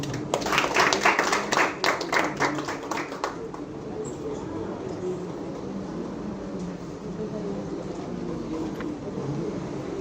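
Symposium attendees at an education congress greet the speakers with a few seconds of brisk clapping that soon dies away, leaving a low room rumble and murmuring voices.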